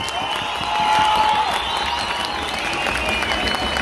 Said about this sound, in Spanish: escucho el aplauso